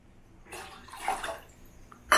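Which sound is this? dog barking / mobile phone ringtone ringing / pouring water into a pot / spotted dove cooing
pouring water into a pot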